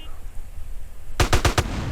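Rapid burst of four gunshots from GTA San Andreas combat, sharp and loud after a quiet stretch, as a shootout erupts around a car that blows up.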